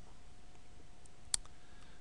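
A single quiet computer mouse click during a server setup wizard, brief and isolated against a faint steady background hiss.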